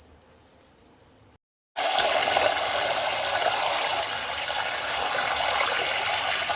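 Rice soaked for six hours is rinsed in water, opening with a brief splash, a moment of silence, then a loud, steady rush and swish of water.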